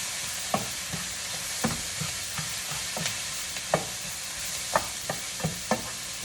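Onions fry in a pan with a constant soft sizzle, punctuated by occasional light taps and scrapes of a utensil stirring, close and moderately quiet.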